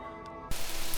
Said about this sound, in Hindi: खिड़की के शीशे पर बारिश की बूंदें गिर रही थी।